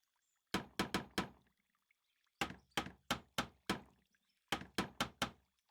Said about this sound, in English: Really hammering this campfire together.